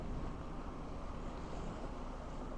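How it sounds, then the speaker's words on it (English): Wind drives waves across Copano Bay, a continuous broad rush of surf and gusting air buffeting the microphone, steady and unbroken with no voices. "the wind is pushing those waves in Copano Bay"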